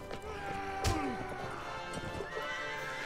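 A horse whinnies loudly in the middle of a Mount & Blade: Warband battle, the rising-then-falling neigh standing out over steady hoof clip-clop and busy combat din, with no talking.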